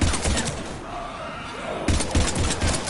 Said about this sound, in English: We're about 5 minutes out.